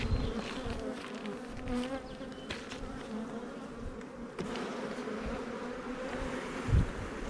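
Honey bees buzz steadily around an opened beehive colony during a frame inspection, a close, dense hum with occasional handling knocks and rustles.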